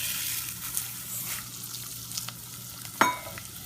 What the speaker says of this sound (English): I'm putting in enough rice to fry it.